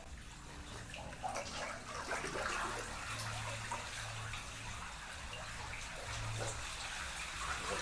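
Water from a catfish farm's filtration pipes pours and splashes continuously onto a concrete pad, a steady rushing gurgle with a low hum underneath, close and unbroken, with no voices.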